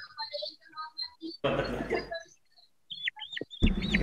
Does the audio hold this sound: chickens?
yes